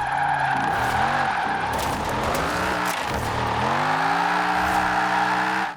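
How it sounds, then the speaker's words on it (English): Tires skidding and squealing on a car slow drifting through a twisty section in Forza Horizon 4, a loud continuous screech over a revving engine whose pitch bends up and down. "I'm going to see if this thing is good at slow drifting."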